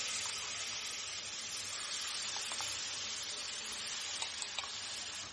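Onion paste fries in oil for a river pangas fish curry, giving a steady, fairly quiet broadband sizzle and hiss with a few faint clicks scattered through it.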